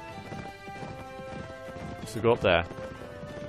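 Horse hooves clip-clop in a video game, a short burst of louder galloping and a possible whinny rising from the steady game music while a person talks over it.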